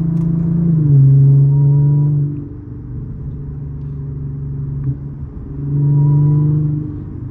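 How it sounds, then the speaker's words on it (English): A supercharged engine in a 2012 Audi A7 revs twice, near and loud, rising and then settling back to a rumbling idle between the two pulls. "Supercharger sound good."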